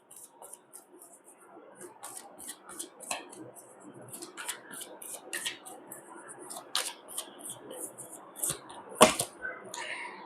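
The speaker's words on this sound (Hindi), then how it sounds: "मैं एक कार्ड और लेती हूँ।" Tarot cards are drawn one at a time from a deck during a reading. Soft, close card flicks and slides follow each other in irregular bursts, with a sharper snap near the end and no talk over them.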